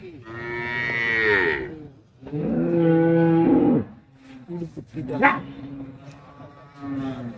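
Cattle at the Pollachi cattle market lowing loudly in long, drawn-out moos, two big calls close by followed by softer, broken calls and market clamor.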